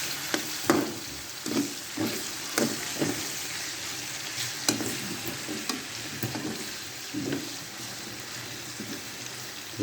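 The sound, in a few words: tocino and hotdog frying in a pan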